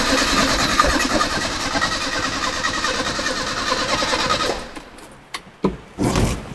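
Datsun 620 pickup engine cranking and running steadily up close with a rough, pattering idle, then cutting out into a few short sputters and bursts.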